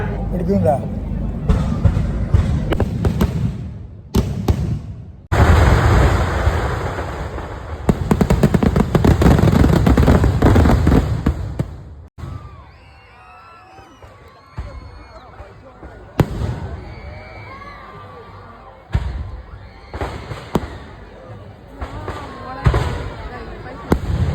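Fireworks burst at a temple festival, loud close cracks and booming volleys in dense bursts, then quieter scattered pops with whistling rockets, over crowd babble and talking voices.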